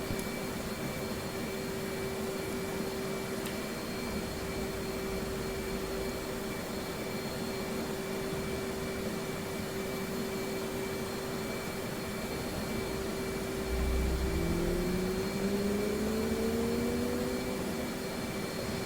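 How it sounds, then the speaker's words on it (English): An F/A-18C Hornet jet engine spools up in the DCS flight simulator, with a steady cockpit whine and broadband rush, then a rising tone and low rumble as the engine winds up near the end. "Now at this point, we'll go ahead and start the next engine."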